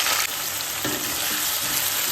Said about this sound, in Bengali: এঁচোড়টাকে ভেজে নিচ্ছি